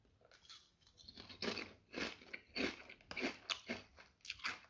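Grouse and whinberry flavour crisps are crunched up close, a string of sharp, irregular bites and chews that come in uneven bursts with quiet gaps between.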